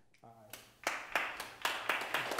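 Scattered audience claps at a Startup Grind event, a handful of sharp separate hits following a short spoken word, fairly faint and unevenly spaced.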